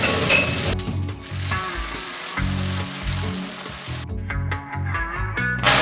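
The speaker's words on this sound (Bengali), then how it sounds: "এখন আমি এই যে আদা কাঁচা লঙ্কা পেস্টটা করে এনেছিলাম এটা দিয়ে দেবো।" Ginger and green chili paste sizzles loudly in a hot pan for a vegetarian khichuri, a steady fry broken by a pause and then brisk stirring scrapes near the end.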